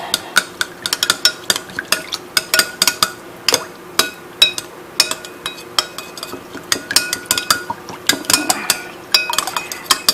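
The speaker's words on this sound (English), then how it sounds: "And what you want to do is mix it together." A spoon stirs a pre-boiled rice mixture for baked chicken and rice, producing steady, close, repeated metallic clinks and scrapes against the dish in a quick uneven rhythm.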